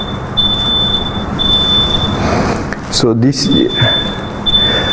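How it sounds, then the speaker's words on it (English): A smoke alarm gives high-pitched electronic beeps in a three-beep T3 pattern, bursts separated by pauses, sounding close by while a person talks over it. "The smoke alarm is a simple beep with a particular time pattern."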